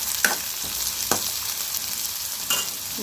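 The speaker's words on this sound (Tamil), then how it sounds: "வெங்காயம் நல்லா வதங்கணும்" Onions sautéing in a pan for a carrot and potato stir-fry, a close, steady sizzle broken by a few brief scraping stirs of a spoon.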